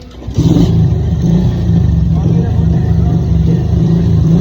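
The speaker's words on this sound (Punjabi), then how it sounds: "ਮੋਟਰਸਾਈਕਲ ਪਰੇ ਆ, ਲੈ ਜਾ ਤੂੰ ਅੱਗੇ।" A motorcycle engine revs loud and close in a Pakistani village, a steady low throbbing drone that swells after a short start and holds without a break.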